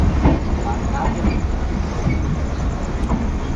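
Steady low rumble of the Vivek Express rolling along the rails out of a station in West Bengal at dawn, with faint rhythmic clatter and a few soft clicks; no talking.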